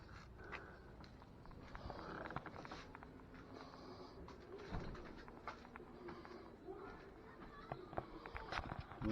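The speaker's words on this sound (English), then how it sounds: "I gotta come out here and feed the birds" Outdoors, pigeons or doves coo softly near a bird feeder, with low, quiet calls and faint rustling and footsteps in the background.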